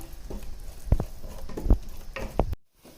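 Masala fries in a pan while a spatula stirs it, giving a soft steady sizzle broken by a few close scraping knocks against the pan, ending abruptly with no talking.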